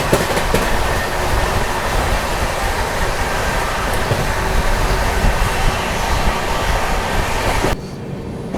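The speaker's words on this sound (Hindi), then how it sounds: "कुछ ही देर में जो है अपनी तमिलनाडु एक्सप्रेस स्किप करने वाली है आमला जंक्शन को" Tamil Nadu Superfast Express 12621 rolling along the rails past Amla Junction, a loud, steady broadband rumble with faint clatter sustained for nearly eight seconds before cutting off abruptly into quieter background.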